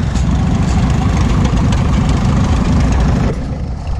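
A Massey 44 antique tractor engine idles steadily and loudly up close, a deep, even chugging rumble that holds for a few seconds before dropping slightly in level near the end.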